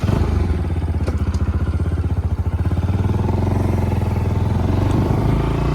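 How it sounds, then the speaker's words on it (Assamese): A motorcycle rides along a village road, its engine thrumming steadily and loudly up close with a pulsing beat, with wind noise and no speech. "এতিয়া যাওঁ, সুমনে বাইক চলাইছে।"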